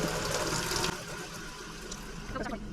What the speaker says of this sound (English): Supposed to rinse it like this until it comes out clear.